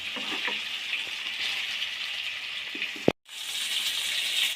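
Fish cooks in a pan for a lemon pepper fish fry, giving a steady, soft sizzle and hiss broken once by a brief gap before the frying resumes at the same level, with no voices.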